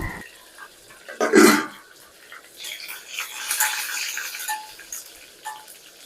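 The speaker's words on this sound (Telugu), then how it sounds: "ఇప్పుడు కరేపాకు వేస్తున్నాను కరివేపాకు వేగానే ఆయిల్ అంతా స్ప్రెడ్ అవుతుంది" Curry leaves dropped into hot oil for tempering a Nellore-style pulla kura, giving a sudden sharp spitting burst, then a softer, uneven sizzle and crackle that keeps going at moderate loudness.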